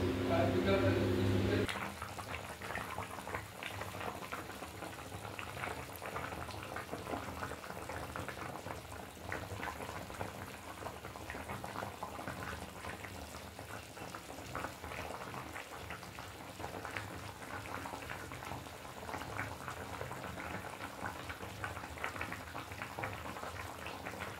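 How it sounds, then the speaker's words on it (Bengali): Chicken curry in a pot bubbles at a steady, gentle boil after water is added. The soft, continuous burbling stays quiet and close, after a brief louder burst at the start. "তরকারিতে জল ঢেলে দিয়েছি, তরকারি ফুটতেও শুরু করে দিয়েছে।"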